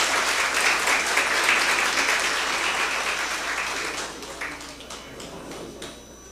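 Applause from an audience at a civic tribute event, a dense steady wash of many hands clapping that slowly fades over several seconds.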